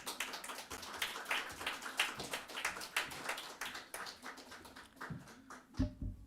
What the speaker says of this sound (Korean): 우리 뜨거운 박수로 다시 한번 환영하면서 맞이하겠습니다